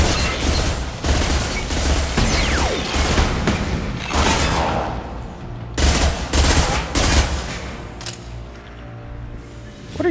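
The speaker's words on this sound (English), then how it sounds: "it's the turret that's shooting" An automated defensive turret in Mass Effect 2 fires repeated bursts and rocket-like blasts, loud and close, with dense rattling volleys and booming impacts throughout.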